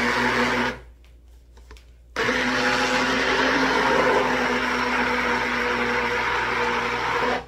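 A blender grinds cooked barley rice with a loud, close motor whir. It cuts out for about a second, starts again and runs steadily until it stops at the end.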